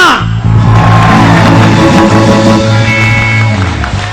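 Studio audience on the Geo Inaam Ghar game show bursting into loud applause and cheering, with music and whoops, rising sharply after a brief pause and staying full and close.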